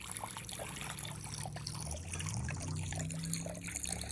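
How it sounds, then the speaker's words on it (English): Water poured into pickling brine of salt and vinegar, a quiet continuous trickle and splash with faint background hiss. "stir in 8 cups of water"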